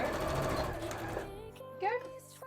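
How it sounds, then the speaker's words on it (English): A sewing machine stitches a dart in a cosplay coat, a fast, close mechanical whirr for just over a second before stopping, followed by a brief voice. "I'm gonna try and sew the dart upwards on this as well"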